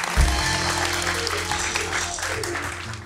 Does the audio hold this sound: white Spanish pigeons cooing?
no